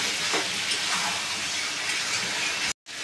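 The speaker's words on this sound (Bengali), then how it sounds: "দিয়ে একটু আলুর সাথে কষিয়ে নেব" Meat and fried potatoes sizzle together in a pan as they are browned, giving a steady close hiss that runs unbroken before cutting out briefly near the end.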